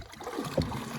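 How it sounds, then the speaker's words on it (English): A canoe paddle is pulled through water from a canoe carrying kids during a hail and thunderstorm, making one brief, soft splashing stroke close by against a low wash of water. "Stick your paddle in and pull us in that direction."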